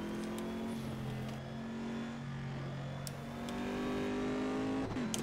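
Race car in the sim racing game Assetto Corsa holding a steady, droning engine note at speed, with the pitch shifting slightly as it drives, heard alone without talk.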